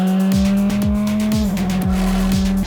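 Praga race cars with 365 BXB turbo engines pull away at the start of a race at Snetterton, a dense, loud engine drone with repeated rhythmic gear-shift dips and tire squeal.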